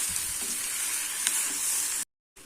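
Ripe tomatoes sauté in a hot pan for tomato chutney, giving a steady close sizzle and crackle with occasional stirring scrapes, then breaking off abruptly into a short silence.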